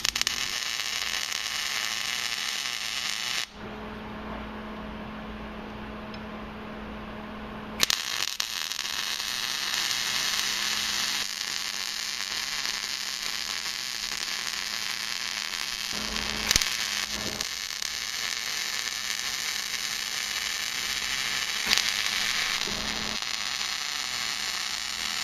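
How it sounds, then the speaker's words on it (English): Arc welding of a steel sprocket onto a steel plate, with a loud continuous crackling buzz that drops out briefly and restarts, punctuated by a few sharp pops and clicks near the work. "Now what I'm going to do now is weld this to the plate"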